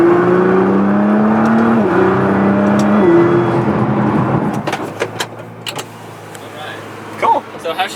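A Nissan GT-R R35 fitted with a mid-pipe exhaust pulls hard through rising engine notes with two quick shifts, loud and close, then eases off into lower rumble while people talk nearby.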